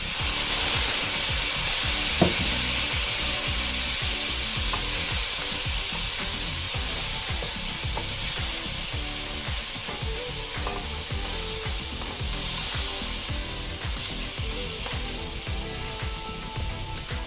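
Sea bass fillets frying in a pan give off a loud, steady sizzle with a rough crackling texture that runs unbroken from start to finish, with no voices.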